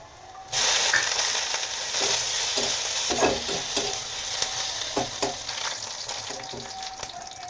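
Fried eggplant and neem leaves crackle in a pan: a loud sizzle bursts in suddenly and holds steady, punctuated by clattering spatula scrapes and stirs.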